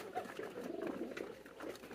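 Pet pigeons cooing softly nearby, a quiet, brief run of low murmuring coos.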